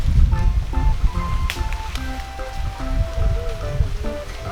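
Steady rain falls across a flooded rice field during cast-net fishing, a continuous close patter of drops on water and ground, with faint tonal sounds over the top and no speech.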